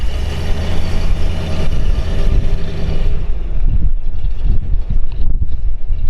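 A 1983 Ford Bronco off-road chase car driving down the road, loud engine rumble mixed with heavy wind buffeting the microphone, continuous and close, with no voices.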